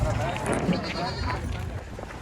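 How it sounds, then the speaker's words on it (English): Goats bleat repeatedly at an outdoor flea market, close and loud over a steady crowd murmur and people talking. "I should buy one of these goats"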